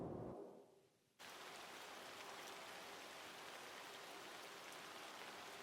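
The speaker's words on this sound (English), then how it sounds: "Rain on Leaves is one of my favorite." Steady, dense rainfall pattering on foliage, a continuous soft hiss of drops with no voices, following a brief quieter opening.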